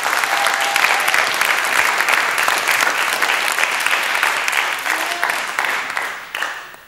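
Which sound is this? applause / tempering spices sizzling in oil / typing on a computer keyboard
applause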